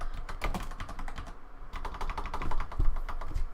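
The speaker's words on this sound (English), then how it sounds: "sometimes I just randomly start typing in stuff" Rapid keystrokes on a computer keyboard, an irregular run of close, crisp clicks and clacks that carries on steadily without pause.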